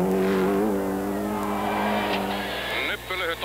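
In-car sound of a 1997 WRC rally car on a stage with a navigator: a loud, steady engine drone with shifting revs throughout, a brief dip near the end, and a voice reading pace notes underneath.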